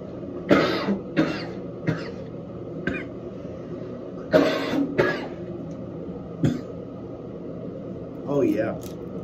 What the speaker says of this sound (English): I did cough